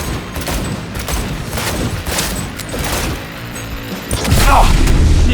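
Gunfire rattles in Cyberpunk 2077 as a dense run of quick shots, moderately loud amid game noise, building to a heavier, louder burst near the end.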